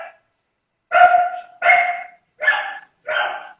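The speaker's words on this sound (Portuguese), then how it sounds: "Vai lá, trocar uma ideia com esses cachorros." A dog barks four times in quick succession, loud and close, with short gaps between the barks and no talking over them.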